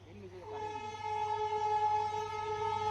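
A train engine sounds in rural countryside, a steady low rumble under a long sustained horn tone that rises in and holds for a few seconds before cutting off abruptly.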